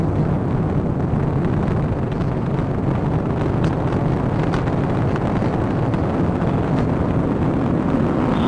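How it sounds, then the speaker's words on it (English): A SpaceX Falcon 9 rocket lifting off with a Dragon cargo capsule bound for the International Space Station: a steady, loud, broadband roar with a windy texture that holds without a break from start to end. "Liftoff of the SpaceX Falcon 9 rocket, launching Dragon to the International Space Station"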